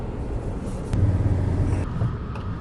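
Small Suzuki car with a 1.2 litre petrol engine driving, heard as a steady low engine rumble with a slight rise in load partway through, continuous and close.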